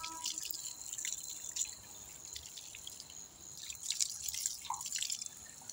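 Tap water runs and drips while a toothbrush is rinsed at a sink, with a light continuous splashing patter and a few clearer drops standing out near the end.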